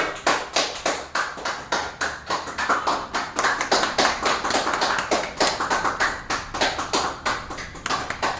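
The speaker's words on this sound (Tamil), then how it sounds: "ஜோரா கை தட்டுங்க மக்களே" A crowd applauds at a celebration in an LED TV shop in Salem, with brisk, steady clapping that swells and fades in waves for several seconds and no talking.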